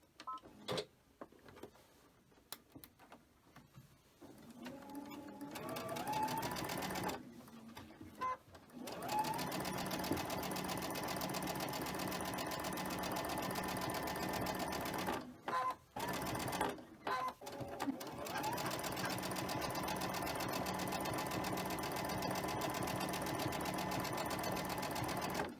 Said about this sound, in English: we're going to sew the white to the other side.